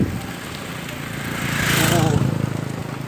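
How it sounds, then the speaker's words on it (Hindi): Motorbikes come up a hill road through rural countryside near a village temple, a low engine drone swelling louder toward the middle as they near, then easing slightly, with faint speech in the background. "ये कुछ बाइक्स आती हुई"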